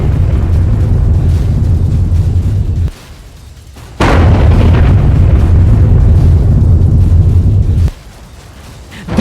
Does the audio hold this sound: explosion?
yes